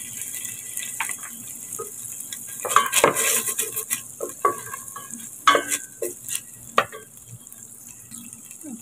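Chopped green chillies hit frying ginger and garlic in a pan for palak aloo sabzi, a bright close sizzle with repeated scraping stirs and a few sharp utensil taps against the pan.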